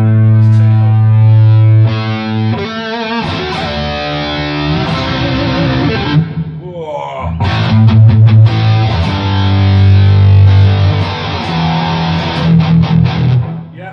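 An electric guitar plays through a Boss Katana 50 Mk2 amp with heavy metal distortion: sustained buzzy chords, then loud, choppy riffs with a harsh, saturated edge.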